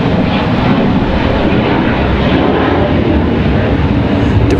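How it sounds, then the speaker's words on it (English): An American Airlines Boeing 777-200 heavy jet airliner at Raleigh-Durham International roars continuously and loudly with broad engine rumble, sustained and unbroken throughout with no talk over it. "that 777-200 headed back to London Heathrow"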